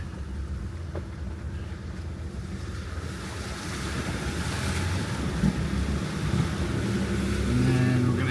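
An off-road overland vehicle drives through a water crossing on a trail near Clayton, Georgia, with a steady rushing, splashing wash that builds and grows louder toward the end, mixed with wind noise.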